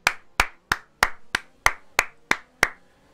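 A single pair of hands claps close and loud, nine sharp evenly spaced claps about a third of a second apart, with no other sound behind them, cheering the winner of a Singapore Grand Prix esports F1 race.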